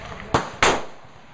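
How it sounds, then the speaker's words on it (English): Two sharp, loud rifle reports from a CETME battle rifle firing .308 Winchester 150-grain Power Point rounds outdoors, spaced about a quarter second apart, each with a short decaying echo. "So this is for the guy who tells me I cannot shoot 308 Win with my Cteme battle rifle."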